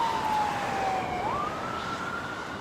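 An ambulance siren wails at the scene of a gas explosion in Santa Clarita, a single sustained tone sliding down and then back up, moderately distant and continuous over a steady rumble of traffic and background noise.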